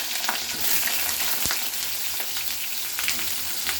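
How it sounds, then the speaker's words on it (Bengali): Steady, loud sizzle of cut eggplant frying in hot oil over a strong gas flame, with a sharp crackle burst partway through as pieces hit the oil and are stirred. "এর ওপরে আমি পুরো একদম তেলের ওপরেই আমি দিয়ে দিচ্ছি বেগুন যেটা আমি কেটে রেখেছিলাম"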